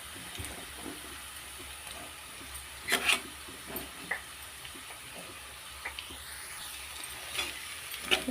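Snake gourd pieces go into a pan of onion and green chillies already frying, and a steady sizzle runs throughout with a few stirring clicks and scrapes, close and clear, with no talking.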